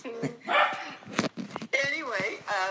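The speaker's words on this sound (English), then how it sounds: "so I hear a dog." A pet dog in a house in a small southern town barks a few times in short bursts, sounding nearby and mixed in with people talking.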